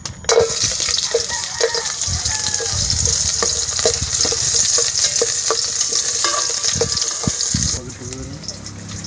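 Loud, steady sizzling from a pot over a wood fire as food is stirred and scraped, with a voice talking over it before the frying sound drops off near the end.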